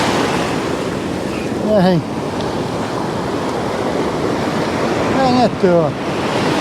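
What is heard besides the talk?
ocean waves breaking on beach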